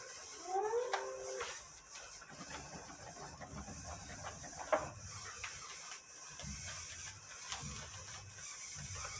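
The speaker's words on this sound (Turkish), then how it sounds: "Makine şu an kendi kendi referans noktasını aldı ve tekrar sarıma devam ediyoruz." A cigarette filter packing machine, one that handles both thick and slim filters, resumes wrapping after finding its reference point, giving a steady mechanical whir with small clicks, ratcheting taps and a few rising whines at the start.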